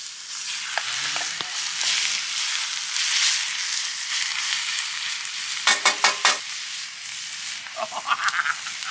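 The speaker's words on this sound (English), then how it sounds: "make sure your pan's red hot. I'm going to bomb the mince in. And the diced steak." Mince and diced steak hit a red-hot pan over a campfire with a loud, crackling sizzle, then a quick burst of sharp clanks from the pan near the end, with no talking.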